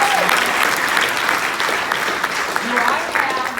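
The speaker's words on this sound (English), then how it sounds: "I mean, we can clap for that." An audience at a business talk breaks into loud, sustained applause filling the room, with some voices and cheers mixed into the clapping throughout.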